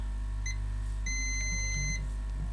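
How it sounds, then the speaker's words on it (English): Two multimeter continuity beeps, a short one then a longer sustained tone, over a steady low hum, while probing a faulty dual MOSFET on a Lenovo Yoga 260 laptop board. "now so this MOSFET is beeping"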